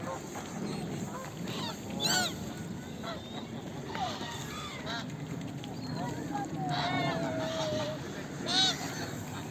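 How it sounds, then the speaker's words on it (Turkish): Ducks honking and calling at a distance across the water while being fed, over steady outdoor background noise, with occasional voices nearby. "Bak şurada karşıda ördekler var."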